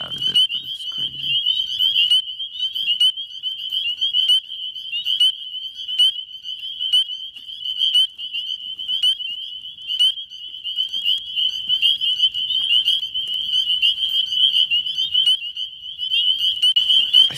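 A dense chorus of high, piercing spring peeper frog calls fills the night continuously, loud and close, with many callers overlapping.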